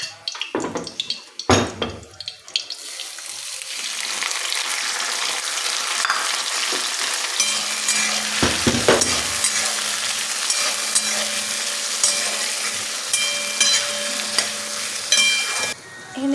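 Onions and tomatoes fry in a pan for mutton paya, giving a loud, steady sizzle with stirring scrapes, preceded by a few sharp clatters of utensils at the start.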